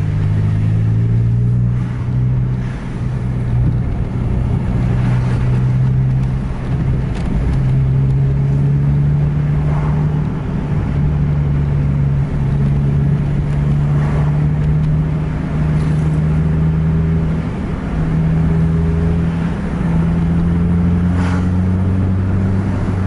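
A remapped bus engine accelerates with a deep, steady drone that rises slowly in pitch as it pulls, loud and close throughout.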